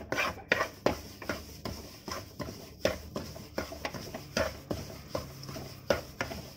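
A spoon scrapes and stirs gram flour roasting in a kadhai for besan laddoo, a steady series of rhythmic scraping strokes, close and moderately loud, roughly two per second with no talk.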